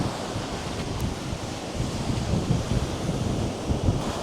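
Ocean waves breaking on Vagator Beach in Goa, a continuous broad roar of surf with wind buffeting the microphone, fairly loud and close with no talking.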